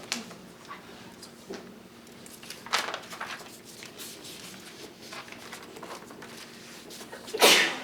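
One sharp sneeze bursts out near the end of a stretch of quiet room noise with a few soft thumps and shuffles, during a school district meeting.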